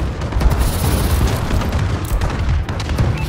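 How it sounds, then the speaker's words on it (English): Bombing run in the Call of Duty: Advanced Warfare multiplayer game, heavy rumbling booms and bursts overlapping continuously, loud and dense with deep low-end weight throughout. "Enemy bombing run overhead."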